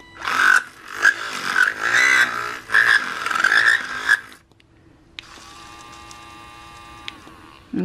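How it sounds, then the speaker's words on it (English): An electric three-speed mixer runs through a batch of soap, first with a loud, busy whirring for about four seconds, then settling into a quieter, steady motor hum after a short pause. "You see this mixer has got 3 speeds, so each time you turn it on it's going to do a different speed."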